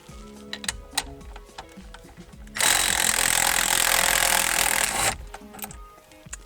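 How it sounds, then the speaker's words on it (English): An impact driver with a 19mm socket zips loose the steering wheel center bolt on a Nissan 350Z, a loud burst of roughly two and a half seconds framed by quieter clicks and handling sounds. "So I'm going to use this 19mm socket and this impact driver to get that off."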